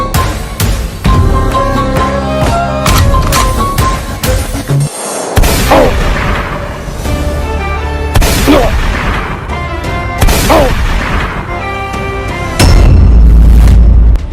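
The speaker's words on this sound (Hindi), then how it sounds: "ये धमाके की आवाज कैसी थी?" Heavy booming explosions burst out over loud, dramatic music, with deep blasts returning several times through the clip.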